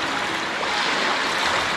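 Seawater percolates up through beach sand on Guam, a steady, close hiss of trickling water with no talk and no breaking waves.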